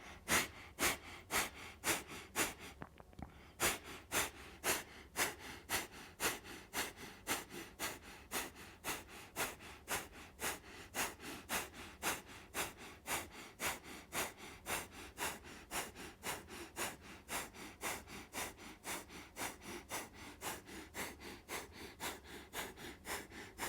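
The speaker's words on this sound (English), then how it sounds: "Let's inhale and we'll begin breath of fire." Rapid, steady breath of fire breathing during a yoga practice, dozens of sharp rhythmic exhalations close to the listener, briefly pausing early on before resuming at an even pace.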